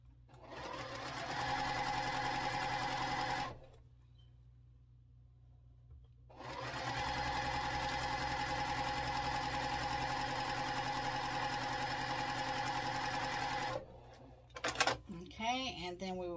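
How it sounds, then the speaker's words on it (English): A sewing machine stitches down fabric for a quilt block in two long, steady runs of rapid mechanical whirring separated by a pause, followed by a few clicks and brief handling noises. "And then we're just going to sew this down."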